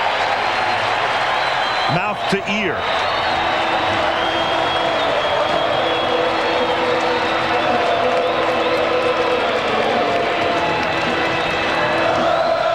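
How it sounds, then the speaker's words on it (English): A large baseball stadium crowd at a 1995 World Series game between Cleveland and Atlanta rises and cheers, a loud sustained roar with whoops and applause throughout, while a broadcaster's voice talks over it. "the crowd rises as one"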